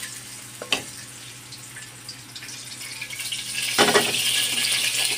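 Pork kasim pieces stirred and flipped in oil in a frying pan, a steady close sizzle with scraping clatter and a brief knock, the frying growing louder near the end.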